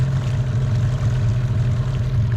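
An outboard motor on a fishing boat runs at a steady low drone, close and loud, with a constant hum and faint water wash and no talking.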